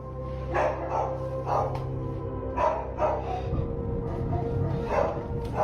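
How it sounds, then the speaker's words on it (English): Family dogs bark wildly at night in a house, in repeated loud bursts of barking over a low, steady background hum. "One night, the family dogs start going nuts, and Ray goes to investigate."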